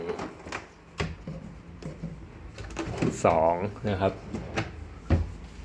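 A bedside drawer in a Chiang Mai hotel room is pulled open and pushed shut, making a few close wooden knocks and short slides while someone talks over them.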